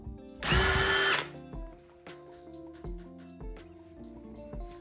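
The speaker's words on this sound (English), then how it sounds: "Hopefully I can just drill a hole." A power drill whines loudly for about a second as it bores a hole in a woodworking setting, then the work settles into quiet knocks and small tool clatter nearby.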